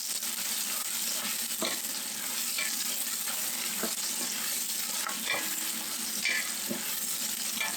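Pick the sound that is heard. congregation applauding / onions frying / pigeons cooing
onions frying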